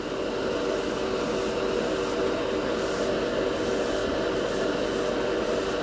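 An airbrush sprays thick Turbo Dork color shift paint with a continuous close hiss, broken by short regular pauses as the trigger is eased back and forth.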